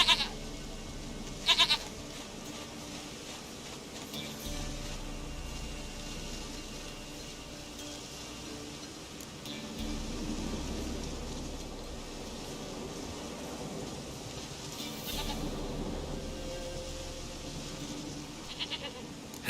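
A goat in The Witcher 3 bleats several times, with short cries near the start and again later, heard over a steady ambient game background hum.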